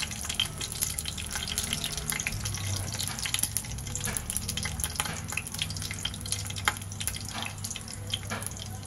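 Onion sizzles as it goes into garam masala frying in a pan for a green prawn pulao, giving a steady, dense crackle close by, with no voices.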